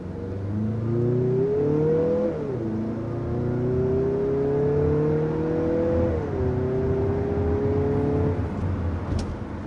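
Mazda compact SUV engine with its turbocharger whistling under enthusiastic driving, revs climbing smoothly, dropping at a gear change near two seconds and again near six, then climbing again, at moderate volume with no talk.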